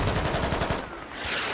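Full-auto gunfire in a squad-based military video game, a close, loud rattling burst of rapid shots that tapers into a rumbling tail.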